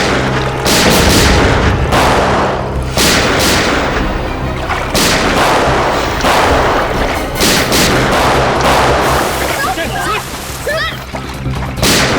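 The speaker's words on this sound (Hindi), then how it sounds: "एक तो खून किया, ऊपर से सीआईडी के ऊपर फायरिंग" Gunfire in a Hindi TV crime drama set in a fort: repeated loud shots and booming blasts crack one after another across the scene, mixed with voices and dramatic sound.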